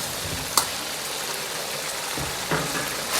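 Lamb blood braising in a wok over medium heat with seasonings stirred in, giving a steady, close, even sizzle and bubbling hiss with a couple of brief clinks or stirring knocks and no talking.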